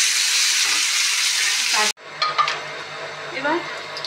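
Broad beans, brinjal and potato fry in a pan with a loud, steady hiss for about two seconds. The sound then cuts abruptly to a quieter sizzle broken by a few scraping stirs and clinks.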